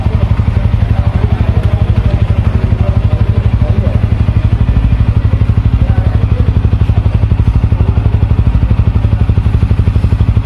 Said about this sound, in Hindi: अब आप इस बाइक के इंजन का साउंड सुनिए और इसका एग्जॉस्ट नोट भी